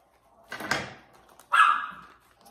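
A dog barks indoors, giving two sharp, separate barks about a second apart, close to the microphone, with quiet between them.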